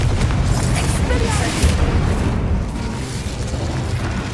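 A Confringo explosion spell cast in Hogwarts Legacy booms out as a dense, continuous blast with a heavy low rumble. It rolls on for several seconds at steady loudness, with game noise layered over it.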